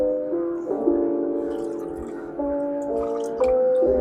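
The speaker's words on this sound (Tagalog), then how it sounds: "haluan natin siya ng tubig para mas maganda yung kanyang timplada ng pintura" Tap water poured into a container of anti-rust car paint to thin it, with a steady liquid trickle whose tone rises in steps as the level climbs, close by and without talk.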